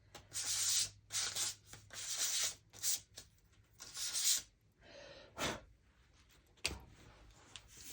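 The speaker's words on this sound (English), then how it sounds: "do the sandpapering over here so it's not loud in your ear, but this is just what I'm doing. Take the shine off." Sandpaper rubbing the glossy finish off a playing card in a run of close, rapid scratchy strokes that come in bursts and then slow, with a short breathy puff near the end.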